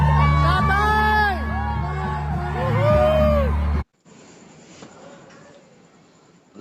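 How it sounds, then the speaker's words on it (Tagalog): A large crowd at a pro-Duterte political rally in Cebu shouts, whoops and cheers loudly for several seconds, then the roar cuts off abruptly into a quieter murmuring background. "Lahat ng sigaw, puro kay Duterte."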